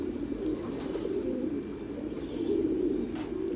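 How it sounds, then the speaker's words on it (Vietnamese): Pigeons at a farm keep up a steady low cooing chorus. Many birds overlap in a continuous warbling murmur at moderate volume, and a few faint chirps rise above it. "mọi người có thể thấy là chim bồ câu ở trại mình này quá tuyệt vời"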